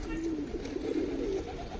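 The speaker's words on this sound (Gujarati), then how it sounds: "અહીંયા બધા કબૂતર છતમાંથી બેઠા હે" Soft, low cooing from pigeons perched on a roof rolls on steadily in close range, a warbling murmur that rises and falls throughout.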